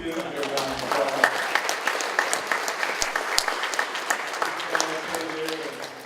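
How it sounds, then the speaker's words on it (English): Applause from an audience at a congressional town hall meeting, a steady patter of clapping across the room with voices talking over it. "Give him a round of applause."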